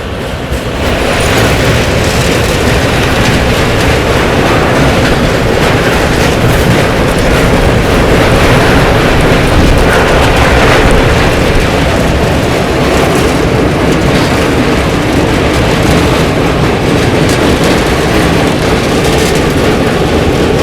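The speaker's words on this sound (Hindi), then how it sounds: "आपटा रेलवे स्टेशन अभी अपनी ट्रेन निकल रही है" Mandovi Express train pulling out of Apta railway station, a loud, steady rumble and rattle of rail cars running continuously without pause, close and dominant throughout.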